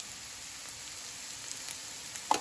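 Potatoes and long beans fry gently in a pan, a faint steady sizzle with a few soft pops and crackles, quiet and continuous with no talking.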